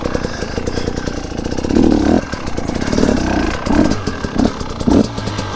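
An enduro motorcycle engine strains and revs unevenly as the bike struggles to pull away in a high gear on loose ground, with a rough chugging note and repeated surges of throttle.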